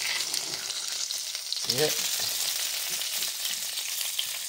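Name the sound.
beef frying and sizzling on a griddle for tacos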